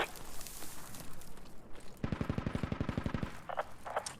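A machine gun in the video game Squad fires a rapid, loud burst of about twenty evenly spaced shots, with a rumbling ambient battlefield before it and a few scattered distant shots after.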